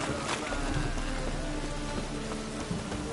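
Steady, dense rainfall in The Witcher 3: Wild Hunt, pattering on a surface, a continuous wash of drops with no pauses, fairly close and even in loudness.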